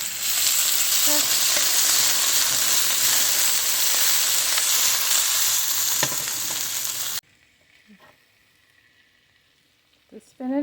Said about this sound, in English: We gotta turn the heat down. Let those